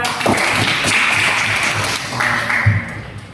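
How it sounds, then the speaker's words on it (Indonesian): A school class claps hands in a classroom, a steady patter of many palms that carries on for a few seconds and then tapers off. "Tepuk tangan juga."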